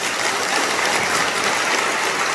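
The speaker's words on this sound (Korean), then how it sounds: "뜨거운 박수로서 맞으셔서 더욱 감사하겠습니다." An audience in a Buddhist temple hall breaks into warm, continuous applause, a dense even wash of many hands clapping with no talk above it, to welcome a speaker to the front.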